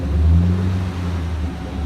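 A car with a straight-pipe exhaust revs up and eases off in one low, throaty, gurgling surge, loud and close, with no talk.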